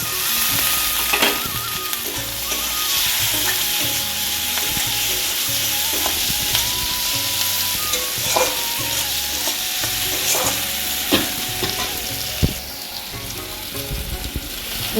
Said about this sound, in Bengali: একটু তেল দিয়ে দিলাম এতে টমেটো কুচিগুলো দিয়ে দেবো এবার